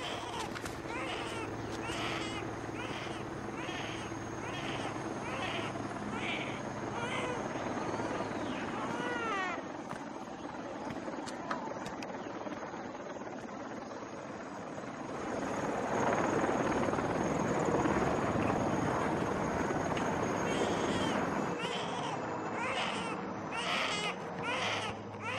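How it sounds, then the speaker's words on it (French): Military helicopters pass over a river area, a steady droning rotor hum running throughout and swelling louder partway through, while a child's crying and whimpering sounds intermittently over it early on. "S'ils ont envoyé des hélicos, tu peux être sûr qu'il y a des commandos sur la rivière"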